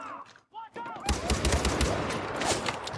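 Gunfire bursts out in Far Cry 4 after a brief lull, a dense, loud volley of rapid shots with layered impacts, while people speak in the background.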